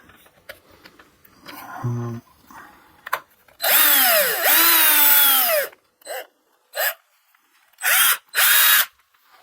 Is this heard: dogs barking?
no